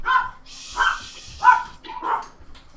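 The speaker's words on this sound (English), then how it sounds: "That's not my dog? Is that yours, Kyle?" A dog barks four times close by, evenly spaced, loud and clear with no talk over it.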